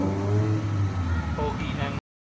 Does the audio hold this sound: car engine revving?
yes